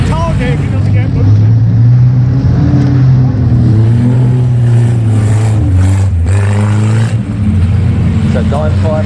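Competing rally car number 953 running on flat tyres, a steady low engine drone that holds throughout with pitch wavering slightly, under continuous commentary talk.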